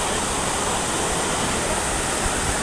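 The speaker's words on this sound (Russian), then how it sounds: "И такая горная река мчится." A mountain river in Abkhazia rushes past in a steady, full hiss of fast-flowing water, close and unbroken, with no voices over it.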